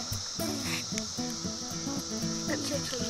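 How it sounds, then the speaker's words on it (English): Brood II periodical cicadas drone with a steady, shrill, high buzzing, while faint voices murmur underneath. "Cicadas climbing up your wand."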